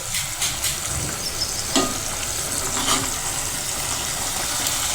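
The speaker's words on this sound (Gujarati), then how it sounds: "આપણે મીડિયમ ગેસ ઉપર મરચાંને પાકવા દઈશું।" Crushed red chili with garlic fries in oil over a medium gas flame for a horse gram curry, producing loud, continuous crackling sizzle with occasional spoon scrapes and no voices.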